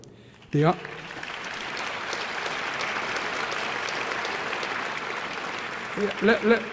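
A hall full of gala dinner guests applauding, steady even clapping that starts abruptly and carries on at moderate level, with a voice briefly heard at the start and again near the end.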